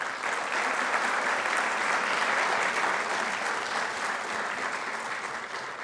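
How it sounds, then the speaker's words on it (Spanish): A large audience at a judicial conference on artificial intelligence applauds to welcome a speaker, with dense, even clapping that holds steady throughout and tapers only slightly at the end. "les pido a todos que le demos la bienvenida con un fuerte aplauso"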